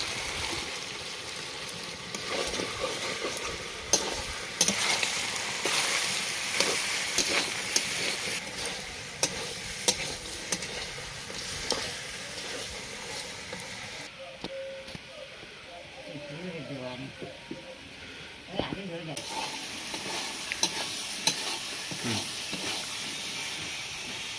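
Chicken curry meat braising and being stirred in a pan with garam masala, a steady close sizzle with intermittent scraping stirs, continuing under and between stretches of talk.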